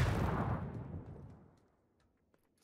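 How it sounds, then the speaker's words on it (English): A grenade blast in the PUBG battle royale game on the snowy Vikendi map: one loud, close explosion whose roar fades away over about two seconds, followed by a small faint click near the end. "That's my nade."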